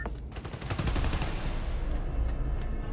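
Dense, sustained gunfire fills a Marvel's Spider-Man: Miles Morales game scene, loud overlapping bursts of rapid shots rattling continuously for several seconds.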